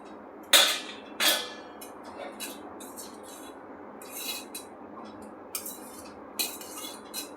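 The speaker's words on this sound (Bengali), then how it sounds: "ভাতটাকে বেড়ে নিই" Serving takeaway rice onto a plate, a few sharp clinks of a utensil against dishware with soft scraping and rustling between, sparse and close in a quiet room.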